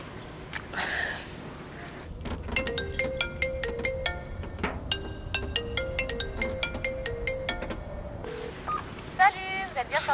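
Telephone keypad tones as a number is dialed, a run of short evenly spaced beeps at close range, with a television-style domestic scene and speech around them.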